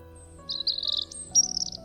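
A bird chirps in a Hindi radio drama on Chetna Radio 90.4 FM, giving two short runs of high, rapid tweeting over a low steady background hum, close and with no speech.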